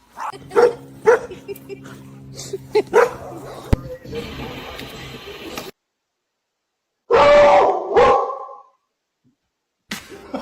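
A dog in a home yaps and barks in short, sharp bursts mixed with whimpers, close to the microphone, with a person speaking over and around the barks and brief gaps of silence between.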